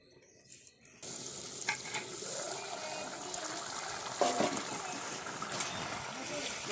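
Jackfruit curry with water added simmers in a covered pot, a steady soft bubbling and sizzling hiss after a brief quiet start, with a few faint clinks.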